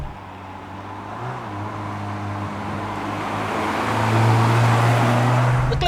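Renault Clio Williams engine idling steadily with a low, even hum that rises slightly in pitch and volume near the end, heard alone without voices.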